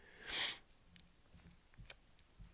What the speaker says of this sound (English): Got the sniffles out of nowhere.